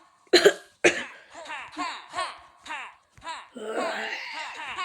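Two sharp, close coughs followed by a string of breathy, hacking sounds and throaty vocal noises, loud and abrupt.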